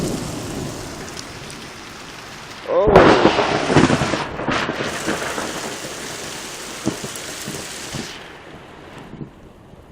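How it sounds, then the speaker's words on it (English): A thunderstorm with rain lets out a sudden loud, close thunder crack that rolls into a long rumble over steady rainfall, and a person gives a brief startled exclamation. "heard some lightning, and we know it's raining."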